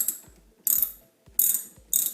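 A 12mm ratchet wrench loosens a bicycle pedal nut on a Schwinn Sprint pedal held in a vise, making four short bursts of bright ratcheting clicks separated by brief pauses, close and clear.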